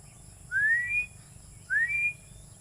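A Philippine eagle named Bagwis calling from above a hut, two clear, rising whistled cries spaced about a second apart, moderately distant over faint background hiss.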